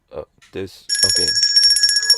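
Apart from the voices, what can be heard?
bell ringing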